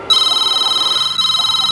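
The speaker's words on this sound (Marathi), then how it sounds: "तेवढ्यात त्यांना एक फोन आला" A telephone rings loud and close in two electronic bursts, the first lasting about a second, then a brief gap before the second begins, with no voices.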